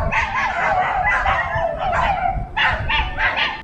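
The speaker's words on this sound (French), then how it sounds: "c'est les chiens du temple, les chiens errants qui sont en train d'aboyer" Stray dogs at a temple in a Thai volcano forest park bark and yelp in a rapid, loud cluster, several overlapping barks close by with a short pause before another burst.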